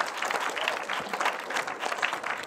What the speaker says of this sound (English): please can we have a round of applause to every single film that was submitted?